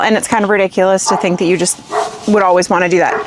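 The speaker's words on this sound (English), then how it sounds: "Sorry about my dogs." Two pet dogs bark and yip in sharp bursts indoors, mixed with a woman's continuous speech that sits over and between the barks.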